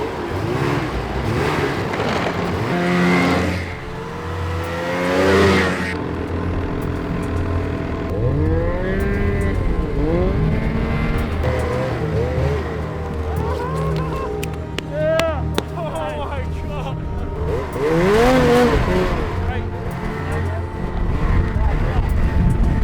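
A high-mileage snowmobile engine drones on a trail, its pitch rising and falling as it accelerates and eases off, loud and continuous, with people talking over it.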